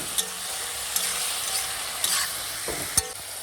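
Curry frying in a pan with turmeric and salt, a steady close sizzle broken by a few sharp clicks and scrapes of the stirring spoon, without talking.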